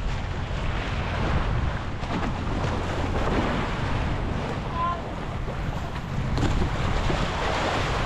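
Motorboat engine idling steadily in neutral on a wooden boat (bangka) on open water, a continuous low drone mixed with wind buffeting the microphone and water noise throughout.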